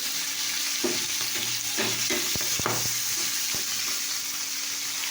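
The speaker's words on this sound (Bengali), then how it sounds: "ওইদিকে পেঁয়াজ ভাজাটা তেল ভাজাটা হচ্ছে" Sliced onions frying in hot oil give a continuous loud sizzle, broken by several sharp spatula knocks and scrapes against the pan.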